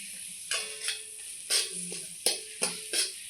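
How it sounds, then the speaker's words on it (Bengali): Spiced pointed gourd (potol) sautés in a pan, a soft sizzle under a handful of spaced stirring scrapes, roughly five distinct strokes, close and moderately loud, with no voices. "আবারও কষিয়ে নেব।"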